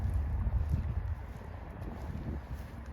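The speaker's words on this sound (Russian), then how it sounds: "Так, лошадки идут." Horses walking at a riding club, soft hoof clip-clops faint under wind noise and low rumble outdoors.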